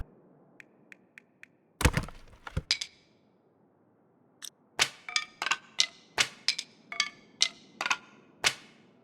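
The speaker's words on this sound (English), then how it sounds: "Let's first start this fire." Starting a fire in a survival video game with sticks in a snowy mountain pass, heard as a series of sharp clicks, taps and thunks, first sparse, then coming in a quick, irregular run.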